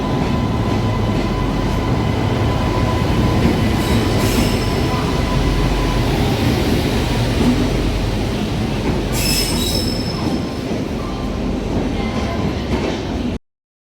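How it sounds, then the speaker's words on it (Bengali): Kumbh Express pulling into a station: a loud, sustained rumble of rolling wagons with high squealing wheels and brief clattering, fairly close, with no talking over it. "আর এই যে আমাদের ট্রেন ঢুকে গেছে কুম্ভ এক্সপ্রেস"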